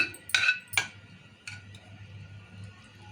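Raw mango pickle is mixed with spice powders and a poured tempering in a pot, starting with two or three sharp metallic clinks of a utensil, then quieter soft scraping and faint ticks.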